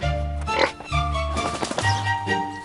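Pigs on a farm grunt and oink in repeated low bursts, fairly close and loud, with a few sharper squeals mixed in over a busy background.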